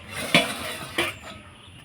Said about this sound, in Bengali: এবার ঢাকনাটা খুলে দেখে নেব।